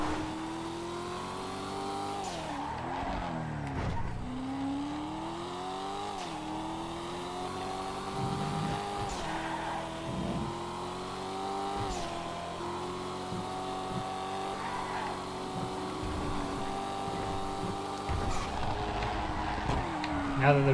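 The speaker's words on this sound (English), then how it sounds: "Pushing a car to its limit such that I might end up slamming it into a wall every now and then" Race car in GTA 5 on a track, engine droning and rising through repeated revs and gear shifts with some tire squeal, steady and fairly close under a talking voice.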